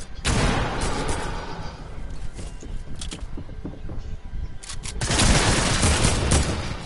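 Heavy gunfire from a PS4 video game rattles continuously, dense bursts and booming shots overlapping, loudest toward the end, with little or no speech over it.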